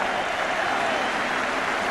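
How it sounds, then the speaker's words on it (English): A football crowd at White Hart Lane applauds a Tottenham Hotspur home win over Manchester United, a dense, steady roar of clapping with no breaks. "the appreciation of the crowd showing clearly that they have enjoyed the afternoon"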